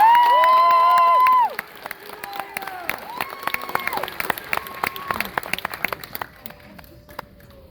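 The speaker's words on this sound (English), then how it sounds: "Very big round of applause." A sustained tone at the start gives way to a graduation crowd applauding and cheering, with scattered claps and shouts continuing at moderate volume.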